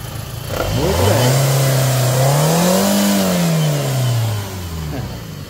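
A used car's engine cranks, catches and revs up and down in one smooth rising and falling sweep before settling back toward idle, close and loud, with no talk over it.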